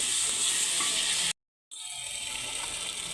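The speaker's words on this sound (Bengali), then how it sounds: "আদা রসুনের পেস্ট দিয়ে দেব," Ginger-garlic paste sizzling with fried onions in hot oil, a continuous bright frying hiss broken by a short silent gap before resuming at similar loudness.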